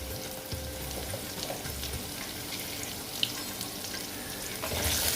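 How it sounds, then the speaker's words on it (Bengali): Turmeric-coated potatoes fry in oil for a rohu fish curry, producing a soft, continuous sizzle with occasional stirring and faint watery noises in the background. "আমি ভালো মতন আলুটা ভেজে নিচ্ছি"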